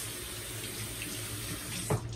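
A bathroom faucet runs steadily to rinse a shaving brush during a wet shave, giving a soft, continuous stream of water with a small splash near the end.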